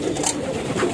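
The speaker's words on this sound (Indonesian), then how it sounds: "Nah, ini tadi merpati Megan yang turun jadi teman-teman." Soft, throaty cooing from a homing pigeon landing at a high-flying pigeon loft in Pekalongan, a low murmuring call set against a steady background of ambient noise.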